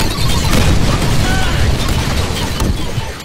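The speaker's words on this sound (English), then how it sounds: "Grenades!" Grenade blast in the Deadpool video game, catacombs level: a loud, dense rumbling burst that fills the whole stretch, with crashing debris and voices shouting over it.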